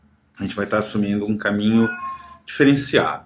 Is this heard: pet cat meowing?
yes